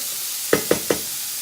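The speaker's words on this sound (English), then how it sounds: "Give that a quick stir." Minced garlic, four cloves, stirred into golden-brown mushrooms frying in a pan: three quick evenly spaced scrapes of a utensil over a soft, steady sizzle.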